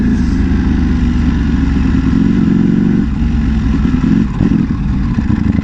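A Ducati Panigale V4 engine runs loud and close, revving with throttle blips and a dip in tone partway through, a dense mechanical rumble throughout with no talking.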